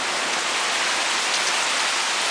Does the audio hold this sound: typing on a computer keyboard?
no